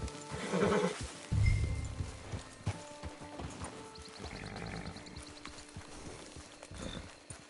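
A horse whinnies in the video game Red Dead Online, then hooves clop along at a steady pace, with scattered thuds and clanks nearby.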